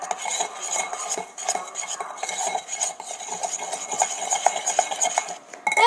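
A spoon stirs a chocolate powder mixture in a bowl while making microwave palha italiana, giving a steady run of close scraping and light clinking against the bowl for several seconds with no talking.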